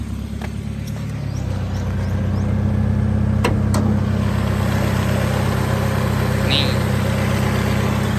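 A Mazda Astina 1.8 with an automatic gearbox and dual gas-petrol fuel runs at idle, its steady low engine hum close by, swelling slightly after the first second and holding even throughout.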